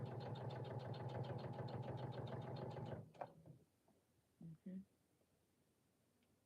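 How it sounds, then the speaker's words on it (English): A sewing machine runs steadily for about three seconds, a loud, rapid, rhythmic whir that stops abruptly. A couple of faint clicks and short bumps follow in near quiet. "and then I'm gonna continue sewing"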